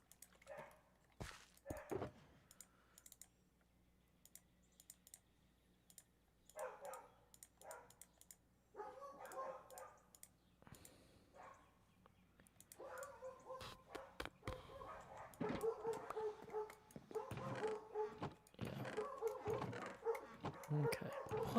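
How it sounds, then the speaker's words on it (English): Dogs barking and yipping in bursts, sparse at first and then denser and louder toward the end, with whimpers mixed in at moderate distance. "I don't know what is going on with the dogs today."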